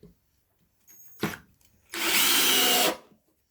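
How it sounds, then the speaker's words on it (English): A Ryobi 18 volt cordless drill under a torque test: a short buzzy spin-up, then a sustained loud whirring run of about a second that cuts off cleanly. "Now the Ryobi 18 volt drill for torque test."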